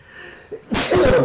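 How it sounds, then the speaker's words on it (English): A single sharp human sneeze bursts out after a brief inhale, loud and close, with a short voiced tail at the end. "I had to sneeze."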